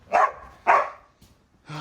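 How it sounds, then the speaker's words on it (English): Two sharp, close dog barks in quick succession, followed by a softer third yelp after a short pause. "what are you barking for?"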